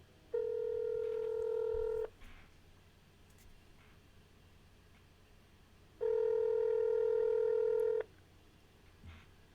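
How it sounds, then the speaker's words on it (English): Two bursts of touch-tone phone dialing, each about two seconds of steady dual-frequency tones, separated by a quiet gap, with faint background noise and no talk. "I hate calling people on the phone"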